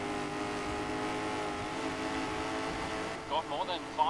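Race car engines drone steadily in GRID 2019, an Aston Martin Vantage among them, with a sustained loud tone and overlapping engine notes and a few sharper revving rises near the end.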